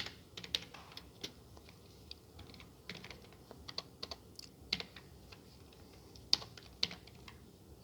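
Quiet, steady clicking of a computer keyboard as C code is typed, with irregular keystrokes and a few slightly louder taps, and no voices.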